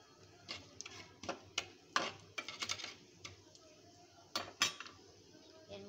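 Boiled potato is mashed with fried poppy seeds in a bowl, giving scattered soft taps and clinks of utensil against the bowl with quiet gaps between them, faint and close.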